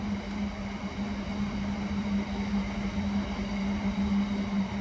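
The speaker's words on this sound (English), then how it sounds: "the train goes by and we get back on it" A train rolls past close by with a steady, continuous rumble and a strong low hum that holds evenly for the whole stretch, with no voices over it.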